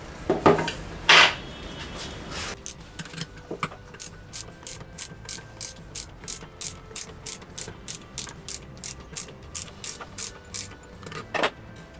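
Vespa PX clutch being compressed with a screw tool, a rapid regular series of metallic ratchet clicks, close and loud, after a few clanks of metal parts at the start.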